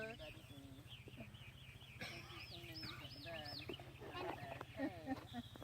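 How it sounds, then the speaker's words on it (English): Birds sing and chirp through the air on a sunny blueberry farm, steady melodic calls layered over a low rhythmic hum, with people talking at moderate level underneath. "they listen to the birds sing"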